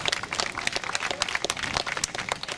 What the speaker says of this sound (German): Applaus für euch selber.